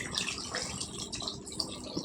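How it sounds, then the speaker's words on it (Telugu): A glass of water is poured into a pot of Andhra-style stuffed brinjal curry with green chillies, making a short, continuous splashing gush close by, with no talking. "నీళ్ళు వేసుకుందామండి."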